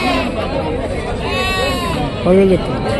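A few goat kids bleat over a crowd's steady background chatter at a village sheep and animal market, with one louder, closer bleat near the end.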